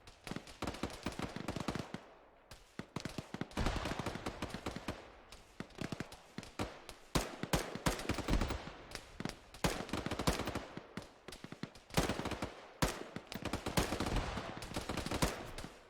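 Rapid gunfire in the video game Squad, bursts of sharp shots cracking in quick succession with short gaps, some automatic strings and single reports, fairly close and unbroken by talk.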